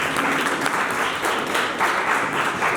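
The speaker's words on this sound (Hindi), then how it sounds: "हम सब की ओर से जोरदार तालियां उनके होने चाहिए" Audience at a 25th anniversary foundation day celebration clapping steadily, a thick, even wash of applause close by and fairly loud throughout.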